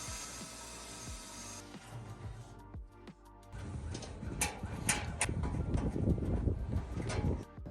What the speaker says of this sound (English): I'm gonna drill my top one now.